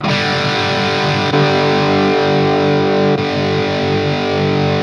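Heavily distorted electric guitar through a Hughes & Kettner TubeMeister Deluxe 20 tube amp lead channel, a thick sustained crunchy chord ringing loudly with a couple of changes.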